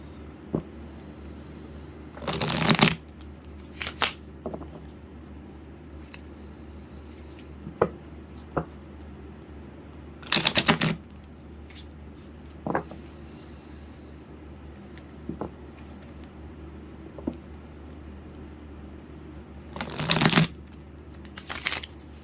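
Angels and Demons tarot deck being shuffled, three short bursts of riffling cards several seconds apart with soft taps and card handling in between, close and quiet with no talk.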